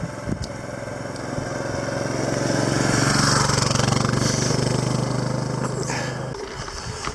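A support vehicle drives along a road during a gravel bike ride, its engine rising as it approaches, passing close with a steady hum, then fading away.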